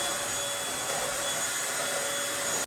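Vacuum cleaner running over a floor during home cleaning gives a steady, close, high-pitched whooshing drone that holds constant for a few seconds before cutting off.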